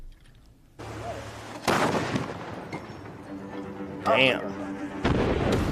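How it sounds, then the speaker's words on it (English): A wheeled cannon fires a cannonball with heavy booming blasts and rumbling, loud and close, while people talk and exclaim over the noise. "This is what a cannon's like."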